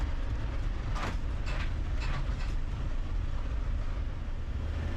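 An old, long-abandoned bus drives steadily with a loud, continuous low-frequency engine and road rumble throughout, accompanied by a few brief rattling clatters from the body.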